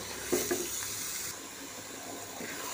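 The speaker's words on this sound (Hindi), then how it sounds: "बर्तन को अच्छे से साफ करूँगी" Tap water runs steadily into a sink while a cooking pot is washed in a home kitchen during a mutton and spinach recipe, with a few brief clinks early on, then a softer steady flow.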